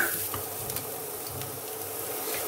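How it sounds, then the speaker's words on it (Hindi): Onions frying in a pan on low gas for a mushroom roll filling give a steady, close sizzle with faint stirring scrapes, continuous and alone without talk. "प्याज हमारी भुनना शुरू हो गई है।"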